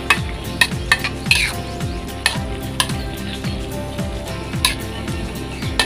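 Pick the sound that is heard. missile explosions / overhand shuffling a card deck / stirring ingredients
stirring ingredients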